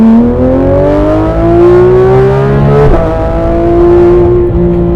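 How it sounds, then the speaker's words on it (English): A loud, close rear-mounted engine of a Porsche 991.2 GT3 RS revs up with a rising whine, drops sharply as it shifts gear, then climbs again in a steady, throaty pull. "you're constantly listening to the engine. It's a rear engine sitting behind your head."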